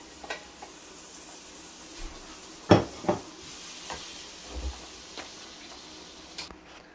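Pre-cooked packaged katahar (jackfruit) being stirred into bunjal masala in a pot for a Guyanese dish, with soft scraping and a few sharper knocks of a spoon against the pot over a faint background hiss.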